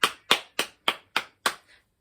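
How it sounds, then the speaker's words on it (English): Six sharp hand claps in a steady rhythm, close and loud, followed by a faint softer seventh clap. "clap your hands"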